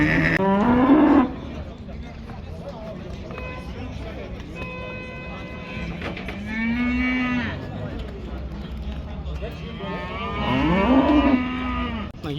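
Cattle moo loudly at the Kyzylorda livestock market, three long low calls spread across the scene, with people talking and general market bustle around them.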